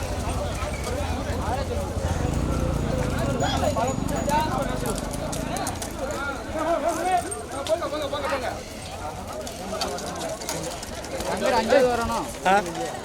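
Bulls pulling carts in a bullock cart race at a birth anniversary festival for Maveeran Sundaralinganar make a rapid, pounding run of hoofbeats passing nearby, under steady talk from an announcer and the crowd.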